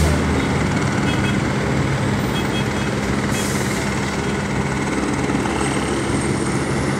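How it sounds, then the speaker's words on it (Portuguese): A military police helicopter hovers over the Marginal Tietê during a rescue after a motorcycle accident, its rotor producing a loud, steady, dense thrum that fills the whole stretch. "é o helicóptero fazendo o resgate de um homem que sofreu um acidente de moto aqui na marginal Tietê"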